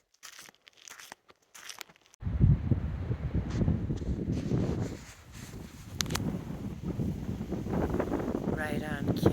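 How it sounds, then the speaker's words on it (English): Wind gusts through leafy trees outdoors, a broad airy rustle that swells in after a quiet opening and carries on with soft crackling, mixed with handling noise close to the microphone. "Thank you, wind, for twinkling my leaves."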